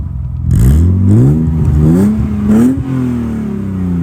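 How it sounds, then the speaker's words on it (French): A BMW E36 323i inline-six revs hard from the rear, climbing in pitch with a smooth, loud rising tone, dipping briefly, then settling into a steady high drone. "le 6 en ligne de chez BMW fait un des plus beaux bruits"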